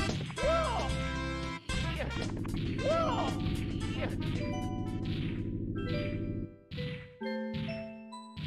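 Video game punch effects in a speedrun attempt, a few sharp smashing hits with ringing, chiming game sounds and music around them, moderately loud.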